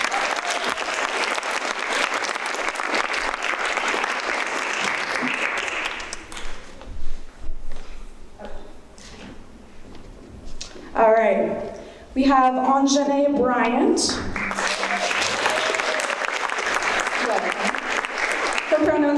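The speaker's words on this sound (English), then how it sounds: "Can we get a round of applause?" A crowd at a high school poetry slam in Portland applauds the panel of judges. Loud, steady clapping fills the first several seconds, fades into a lull, and swells again after a short stretch of speech from the host.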